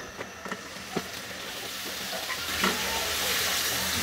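Chicken tikka seekh kebabs shallow-fry in a little oil in a frying pan, giving a continuous sizzle that gradually grows louder, with a few scraping and clinking stirring sounds near the start.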